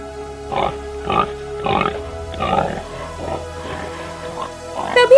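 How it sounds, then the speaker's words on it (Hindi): A wild boar in a jungle cartoon story gives a series of close, rhythmic grunts, about eight of them spaced under a second apart and fading slightly toward the end. "तभी अचानक राजकुमारी को एक जंगली सुअर दिखाई देता है।"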